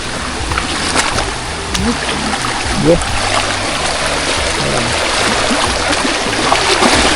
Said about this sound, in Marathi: एक ओढा लागला आपल्याला